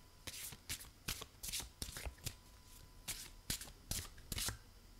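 Tarot cards shuffled by hand at close range: a quiet series of quick riffling bursts and soft slaps, about a dozen in irregular rhythm, with no talk over them.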